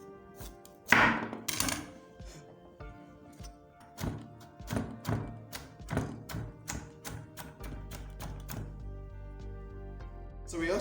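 A knife chopping fresh carrots on a board gives a series of sharp thunks, close and distinct, coming in irregular clusters and quickening into a faster run of cuts, with a faint low hum later.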